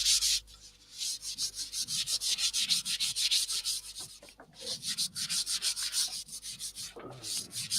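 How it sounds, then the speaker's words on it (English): Yorkshire Grit abrasive paste being worked onto a turned wooden waterdrop bowl on a lathe, a steady close rubbing and sanding rasp with rhythmic strokes and brief pauses. "apply it on, the Yorkshire Grit, apply it on while the lathe is stationary."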